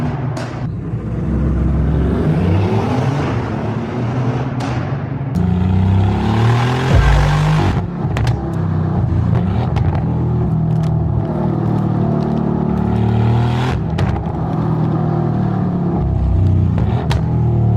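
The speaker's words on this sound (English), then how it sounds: "Best sounding car we've ever had in the UNLD garage." A car engine revs hard for the whole stretch, a loud, continuous rumble with rising and falling pitch sweeps as the throttle is blipped, and no voices over it.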